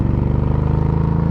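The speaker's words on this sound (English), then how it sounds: "I don't know whether I could live with the actual sound of this bike." An Indian Scout cruiser motorcycle idles and revs with a loud, throaty exhaust, its steady rapid pulsing close and continuous throughout.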